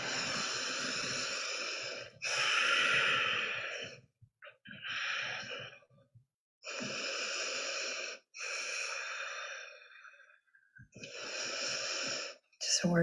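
Deep, forceful breaths during chair yoga, several long breathy inhales and exhales in bursts separated by silent pauses, close and loud with some breathy voice mixed in.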